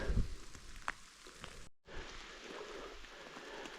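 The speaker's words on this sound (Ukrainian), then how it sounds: "Дощ паде, це добре." Steady hiss of rain falling outdoors in the Carpathian mountains, continuous and moderately loud, briefly cut off before resuming, with a few small knocks near the start.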